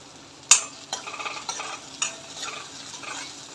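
Chili, cumin and crushed garlic hit hot oil for smoky baingan bharta, giving a bright, steady sizzle with a sharp burst at the start and scraping spoon-stirring strokes throughout, close by and with no voices.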